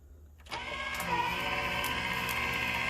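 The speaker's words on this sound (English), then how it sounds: "For this project, you do need to have embossing die cutting machine." An electric embossing die cutting machine starts up after a brief quiet moment, then runs with a steady motor whir and faint rhythmic clicks, close and alone.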